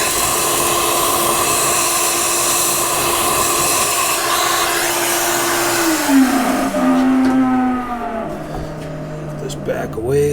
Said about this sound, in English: Let's vacuum it out and see if I'm still happy with it.